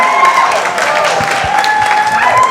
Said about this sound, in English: a big round of applause for Michelle Fecteau